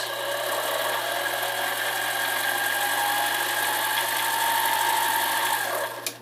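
A Chinese mini lathe spins at about 700 RPM, giving a steady mechanical whine and hum that holds evenly for several seconds before a short knock at the end; no one speaks.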